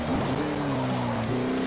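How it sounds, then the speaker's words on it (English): Tires squeal in a sustained, wavering screech as the brakes lock up on a race car in Forza 4 at the Road Atlanta circuit, over the engine's drone. "I'm gonna lock up the brakes right here"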